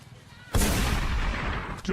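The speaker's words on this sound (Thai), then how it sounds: "มันยิงจริงว่ะ" A single loud gunshot bursts out after a quiet start in a Thai student-made action film, its blast decaying over a second and a half, with faint voices beforehand.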